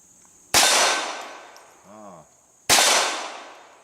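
Two sharp .22 LR rifle cracks, each followed by a ringing metallic clang from a steel target plate, spaced about two seconds apart, with a brief low murmur of speech between them.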